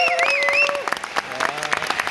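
At a Hanukkah evening gathering, an audience claps loudly, with uneven bursts of hand claps mixed with voices, a sung or sustained tonal voice rising above the clapping at the start.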